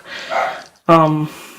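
A single sharp dog bark rings out nearby, following a moment of softer background noise, loud and short with a tonal yelp quality.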